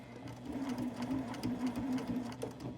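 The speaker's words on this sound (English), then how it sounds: "just a few stitches and then back stitch, so that way it kind of keeps it in place" A sewing machine stitches across a zipper pouch, running steadily and close with a continuous mechanical hum and rapid needle rhythm, a few stitches and a backstitch with no pauses or talk.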